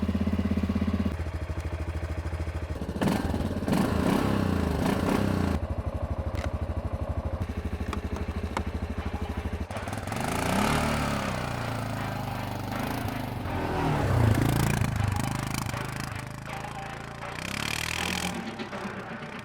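A Loncin XWolf 700 ATV engine (2025) runs steadily on a first ride through mud, a continuous mid-pitched drone with clattering texture that swells and dips with throttle, loud and close throughout.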